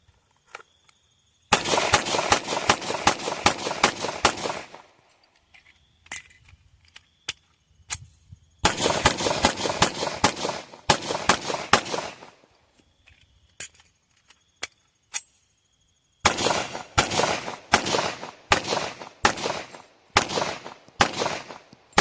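Rapid strings of gunfire in three long bursts, each a dense run of sharp close cracks separated by quiet gaps and a few scattered single shots.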